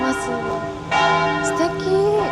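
Loud church bells ringing at noon in Rome, overlapping strikes blending into a rich, sustained metallic tone that rings out across open space.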